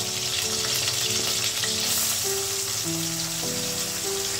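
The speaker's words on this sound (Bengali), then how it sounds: "তেলটা গরম হয়ে গেছে, আমি কিন্তু আলুগুলো দিয়ে দিলাম।" Potato pieces fry in hot oil in a pan, giving a dense, steady close sizzle that carries unbroken under soft tonal background music.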